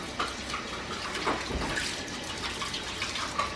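Tap water running steadily for handwashing, a continuous splashing hiss with small gurgles and drips, close and even throughout.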